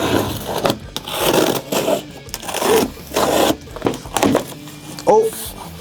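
A Talon knife slices through a cardboard box's tape in several rasping, scraping strokes at close range, separated by short pauses, with talking over part of it.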